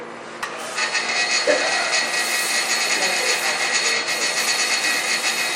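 Steady, coarse abrasive hiss of sanding a wood inlay runs for several seconds, close and fairly loud, with a low rumbling undertone and slight fluctuations.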